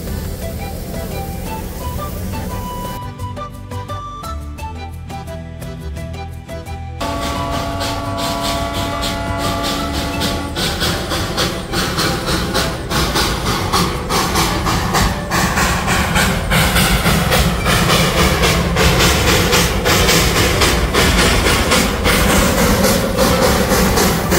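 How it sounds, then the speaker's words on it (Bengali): A train stands idling at a Darjeeling station, a loud steady engine rumble and hiss running throughout with faint clanks and hum, no voices. "ট্রেনগুলো এখানে খানিকক্ষণ দাঁড়াবে, টুরিস্টরা নেমে একটু ঘোরাঘুরি করে দেখে আবার ট্রেনে চেপে এগিয়ে যাবে।"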